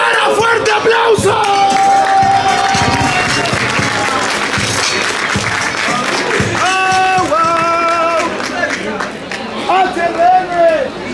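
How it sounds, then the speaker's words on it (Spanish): Loud crowd at a Spanish-language freestyle rap battle in the Liga Inmortal tournament, cheering, yelling and applauding in a dense continuous roar, with voices shouting over it and a brief dip before the noise rises again. "¡Fuerte aplauso!"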